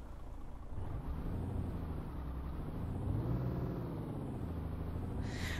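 Simulated MAN TGX V8 truck engine from Euro Truck Simulator 2, a steady deep idle rumble that rises slightly in pitch partway through, continuous and unaccompanied by speech.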